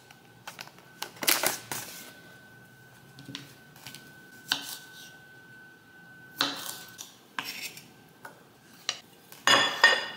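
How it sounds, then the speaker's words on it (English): Knife slicing baby tomatoes on a cutting board in a home kitchen: a scattered series of sharp, close taps and clicks of blade on board, irregular in rhythm, fairly quiet between strokes, with no one speaking. "So I'm gonna cut up some baby tomatoes."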